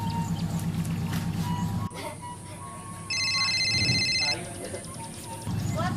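Electronic ringtone from a mobile phone, a repeating bright melodic tone that starts partway through and plays for a couple of seconds over background room noise and talk.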